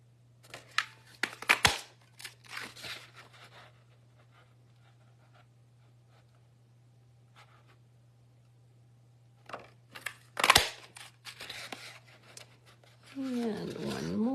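Scissors cut out paper shapes in a few bursts of crisp snips and rustling, separated by long quiet gaps, close to the mic. A loud paper crunch comes near the middle, a steady low hum runs throughout, and a voice speaks at the end.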